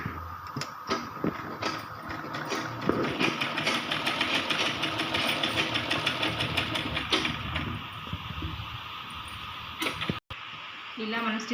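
A sewing machine stitches a baby umbrella frock in rapid mechanical runs with brief pauses, close by, while someone talks over it.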